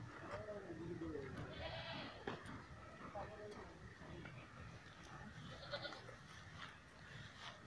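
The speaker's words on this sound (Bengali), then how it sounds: "দেখুন ছাগলগুলো" Goats bleat several times on a farm with grass-fodder pens, the calls mid-level and intermittent over steady ambient noise, with a person talking throughout.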